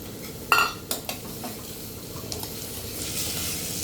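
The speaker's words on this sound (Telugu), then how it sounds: "ఆనియన్ అవన్నీ బాగా వేగాయి, క్యారెట్ కూడా వేసేసుకొని బాగా వేయించుకుందాం ఒక నిమిషం" Onion and carrot frying together in a pan for a carrot and chana dal curry, a continuous sizzle broken by a few loud metallic scrapes and clinks of a stirring spoon early on.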